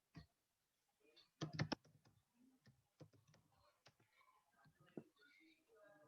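Light clicks from typing on a computer keyboard while entering an email address into a form, sparse and quiet with soft keystrokes coming in short bursts and gaps between them.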